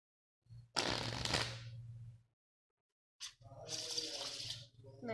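Two close riffle shuffles of a deck of playing cards, each a quick rippling flutter of about a second and a half, separated by a brief silence, with no voices.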